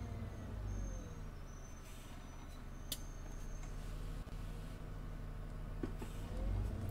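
Bus braking firmly in the OMSI 2 driving simulator, a continuous low engine and road drone with a brief sharp hiss and a few clicks partway through, and the rumble surging again at the end.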